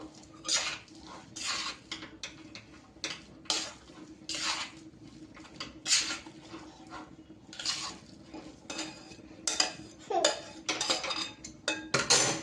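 A spoon stirs masala peanuts and chopped coriander in a metal pan, producing repeated close clinks and scrapes in an irregular rhythm, with a faint background hum.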